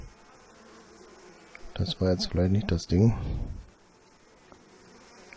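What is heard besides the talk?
buzzing bees in video game Planet Nomads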